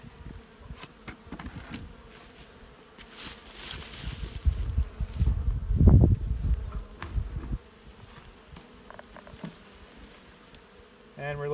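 Honey bees buzz steadily around an opened hive box during a cold early spring check, a dense close hum that swells to a louder peak midway before settling back to a softer drone.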